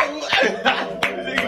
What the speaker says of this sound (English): Did you just clap?